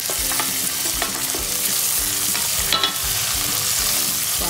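Garlic, green chili and ginger sizzling and frying in a pan for a Kolhapuri mixed vegetable dish, a steady close crackle with occasional stirring scrapes, no talking.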